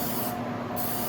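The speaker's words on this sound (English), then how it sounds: "you need to remember to spray these" Cooking spray hisses into two loaf pans for baking bread, a single short burst of about half a second over a steady room background.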